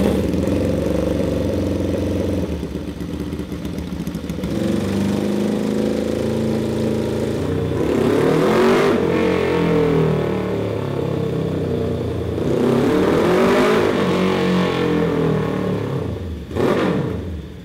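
A 550cc engine in a Little Tikes go kart revs on a dyno, loud and close, idling and then rising in two long pulls before dropping back, with a fan running.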